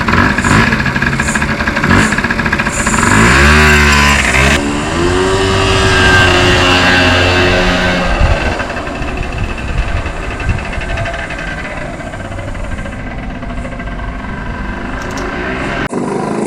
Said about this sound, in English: Ah yes, riding a little bike